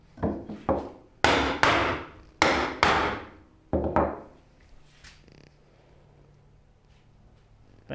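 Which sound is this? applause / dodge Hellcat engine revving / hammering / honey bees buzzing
hammering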